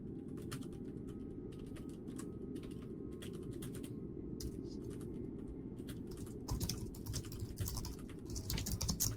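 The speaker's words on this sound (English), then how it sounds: "Sound of clicking keyboards." Several computer keyboards click steadily during a Lovecraftesque tabletop role-playing session, a dense patter of keystrokes over a low room rumble, growing busier and louder toward the end, with no talk.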